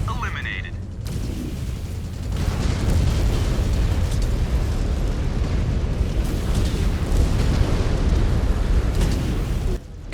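Missile explosions in a mech combat video game rumble continuously as loud, dense booms and blasts rolling over one another, with a brief sharper burst at the start, all under a steady low roar.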